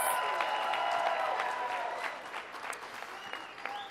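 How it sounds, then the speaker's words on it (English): Audience applause at a New York event on ending the AIDS epidemic, a dense steady patter of many hands that gradually thins and fades, with a faint voice at the start. "give yourselves a round of applause"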